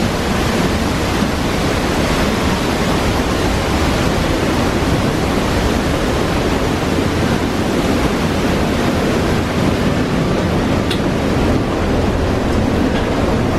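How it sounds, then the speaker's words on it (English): Roaring waterfall at Tunnel Falls on the Eagle Creek trail, heard from a path passing underneath the falling water: a loud, dense, unbroken wash of spray and rushing water filling the whole clip. "We are underneath a waterfall!"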